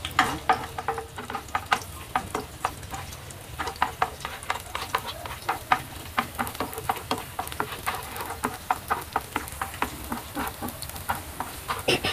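Garlic cloves fry in a pan while being stirred, a moderate sizzle broken by frequent sharp spoon taps and scrapes against the pan, no voices.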